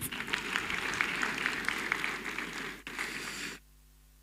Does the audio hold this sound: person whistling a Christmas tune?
no